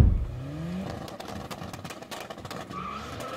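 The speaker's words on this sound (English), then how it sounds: "That's a E60 M5" A BMW E60 M5 skids past in a short burst, tyres squealing with rising and falling whines over engine noise, loud at the start and then settling into gritty scrabbling.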